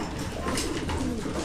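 Pigeons coo in a steady low murmur, kept for trapdoor training, with soft overlapping calls running throughout at close range and no talk.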